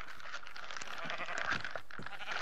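A Minecraft sheep bleats in a few wavering, nasal cries over a short stretch, fairly close and clear, with no talking.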